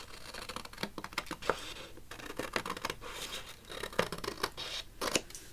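Scissors snipping paper while working on a grunge-style journal, a quiet series of short irregular cuts and scratchy rustles close up, with no talking.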